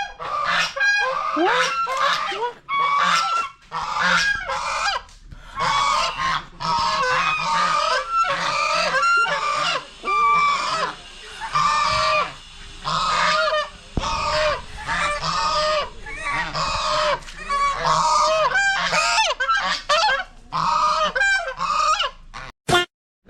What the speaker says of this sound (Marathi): बदका किती मोठी आहेत